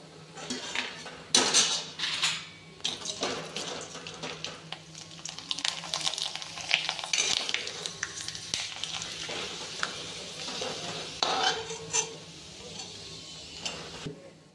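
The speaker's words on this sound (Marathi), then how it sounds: "आता आपण ते तेलात तळून पाहूया" Fasting papads of sago and potato fry in hot oil with a close, steady sizzle, while a utensil clatters and clinks against the pan in irregular bursts.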